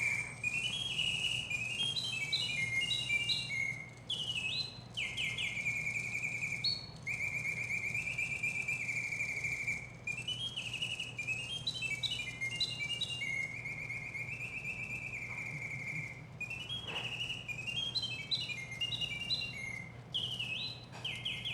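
A mechanical bird automaton warbles and chirps continuously, bright whistled trills from a bellows-driven slide whistle sliding up and down in rapid phrases, steady and fairly loud, with brief pauses.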